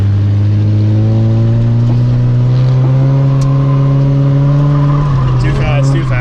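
A drift car's engine holds high revs with the clutch pushed in, a loud steady tone that climbs slightly, with tire squeal and skidding noise coming in near the end.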